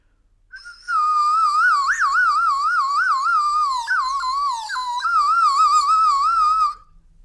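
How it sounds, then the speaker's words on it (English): A 3D-printed warbler bird whistle with water inside gives a loud, continuous warbling trill that wavers and bubbles in pitch for about six seconds, alone with no voices. "This is, I think it's called a warbler whistle or a bird whistle."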